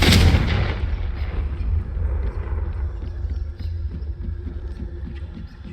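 A Confringo blasting spell from Hogwarts Legacy bursts with a loud opening boom, then rumbles and crackles away into a low, fading echo.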